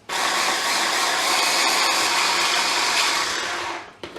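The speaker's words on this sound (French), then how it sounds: "on va venir mixer gentiment pour avoir notre petit pesto" A blender whirs steadily for about four seconds, mixing pesto with olive oil, loud and continuous before cutting off.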